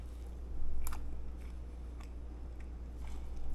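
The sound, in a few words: biting and chewing a swai fish sandwich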